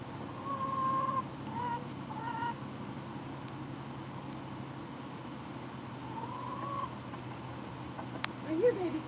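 A hen clucks in a few short bursts near the start and again midway, with a person's voice talking softly over a low steady hum.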